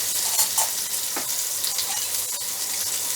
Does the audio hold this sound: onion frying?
yes